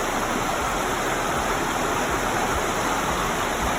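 Bright Angel Creek rushes at the bottom of the Grand Canyon near its mouth at the Colorado River, a steady, dense wash of flowing water filling the whole stretch without a break, close and fairly loud, with no voices.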